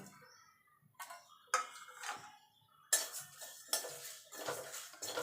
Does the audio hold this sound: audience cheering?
no